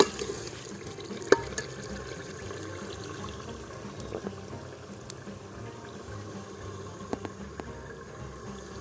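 Water is poured steadily into a cooking pot for rice, a soft continuous trickle and splash running for several seconds with a few faint clinks, no talking.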